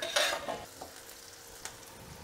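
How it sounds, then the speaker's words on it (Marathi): Chickpeas and onion are stirred and sautéed in hot oil, a soft sizzle with a scraping stir at the start and a couple of light utensil clicks, close and quiet, with no talk. "आता हे हरभरे, हा कांदा हा या तेलामध्ये परतला जाईल."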